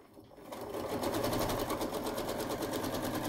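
A sewing machine runs steadily as rows of a quilt-as-you-go barn quilt are stitched, a fast even whir starting after a brief quiet moment and holding close and continuous to the end.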